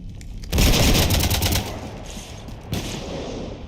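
Heavy gunfire rakes a ship in the sci-fi video game Mass Effect 3, a loud dense burst of rapid shots with booming impacts, easing into a sustained rumbling barrage that swells again near the end.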